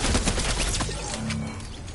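Heavy gunfire in an online shooter video game, including sniper fire, comes as a dense, loud barrage of overlapping shots that thins out toward the end.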